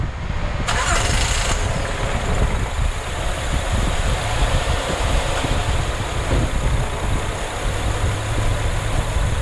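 Car engine cranking and catching on a restart after stalling from too much intake carbon cleaner, then running loud and steady close by at a rough idle, with no voices.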